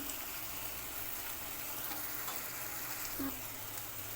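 Masala frying in a pan gives a constant soft hiss and crackle, steady and fairly quiet, with a few faint clinks or stirring touches and no speech.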